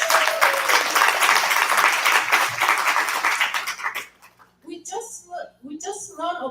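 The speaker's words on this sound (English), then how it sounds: "Let's give her another round of applause." Audience applause at a company product seminar, dense and steady for about four seconds, then breaking off as a voice starts talking over a few scattered claps.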